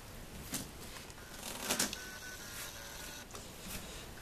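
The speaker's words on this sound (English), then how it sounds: "I'm going to take cards out, and I'm just going to give them a little bit of a shuffle" Playing cards shuffled once for a simple practical magic trick, a quiet riffling burst with a few soft flicks, close and faint against low room hiss.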